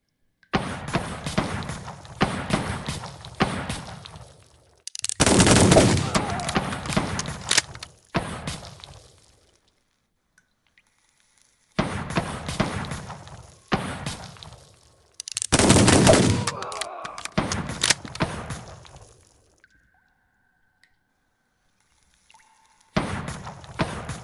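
Gunshots in a western shooting video game ring out in several clusters of sharp, punchy shots, each group separated by short silent pauses.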